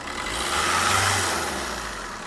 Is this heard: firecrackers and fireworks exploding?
no